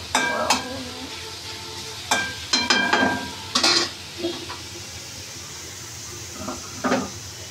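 Bitter gourd fries in a pan while being stirred, a soft steady sizzle under a series of close, irregular scraping and clattering strokes of a spatula against the pan, with pauses between bursts.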